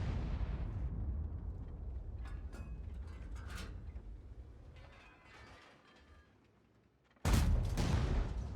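A VK 45.02 B heavy tank in a tank battle game fires its main gun, a sharp, loud boom that strikes an enemy turret, after a stretch of low rumbling engine noise and scattered distant clanks.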